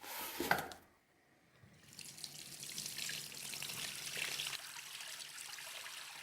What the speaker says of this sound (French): je le mélange bien à l'eau avant pour qu'il soit bien dissous